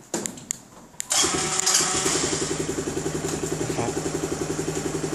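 A car engine is started by an AutoRoute KSR2013 remote-start alarm system. A few soft clicks come first, then the engine cranks and catches, then settles into a steady, pulsing idle.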